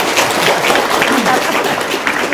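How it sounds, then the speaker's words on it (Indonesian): An audience at a seminar gathering breaks into applause, a loud, dense patter of clapping with voices mixed in. "Tepuk tangan dong."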